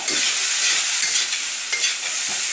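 Rice being stirred and mixed in a frying pan, a steady close sizzle with scraping strokes of the spoon through the grains, loud throughout with no voices.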